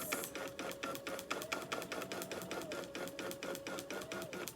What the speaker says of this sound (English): I'm going to go ahead and hit the button to go. It's going to stitch out my little box.